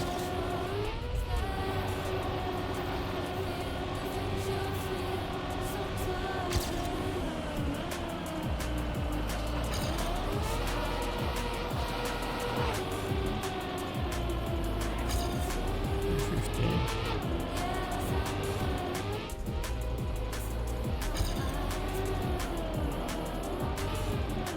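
A Toyota Yaris races across ice in Trackmania, its engine droning loud and unbroken with pitch rising and falling through shifts and slides, steady for the whole stretch and free of talk.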